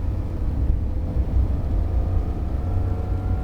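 A Porsche 911 GT3 engine on the Dominion Raceway track near Richmond, Virginia, hums as a steady, even, low drone from inside the car, with no speech over it.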